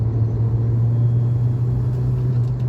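A Mini Cooper S with the 1.6 turbocharged Prince N14 engine drones at a steady low pitch as the throttle is dropped off boost while driving, a loud continuous hum and road rumble with no talking.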